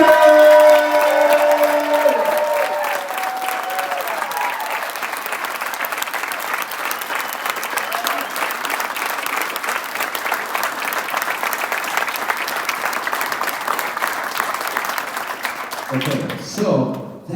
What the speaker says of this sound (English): I want each and every one of you guys to please give a huge round of applause for Misty Gergen!